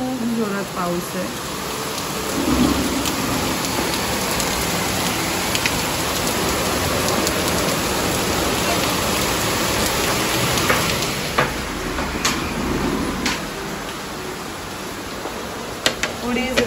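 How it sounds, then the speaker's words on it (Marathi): Heavy rain pours down in a steady, dense hiss with scattered drops hitting surfaces nearby, and people speak faintly beneath it. "खूप जोरात पाऊस आहे."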